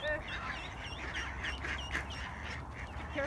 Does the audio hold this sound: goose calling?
yes